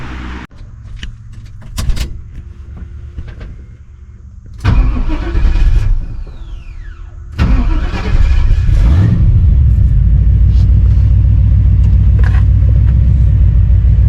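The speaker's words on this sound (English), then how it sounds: "and we'll test drive the truck" Long-idle truck engine cranks, catches and starts, then settles into a loud, steady, close rumbling idle that runs on to the end.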